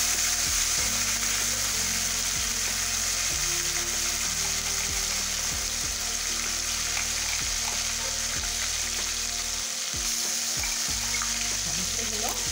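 A spice paste of ground onion, ginger and garlic frying in a pan for chicken kofta: a loud, constant sizzle close by, with regular scraping stirs throughout.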